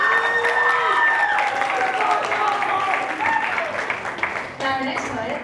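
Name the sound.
audience applause for a poem at a poetry night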